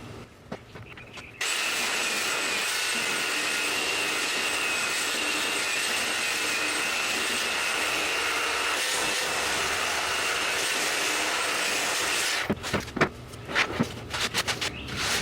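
An 80-grit belt sander works across glued-up wood for a jumbo Staunton chess piece, a loud, steady abrasive roar running for about eleven seconds before stopping, followed by clattering handling noises.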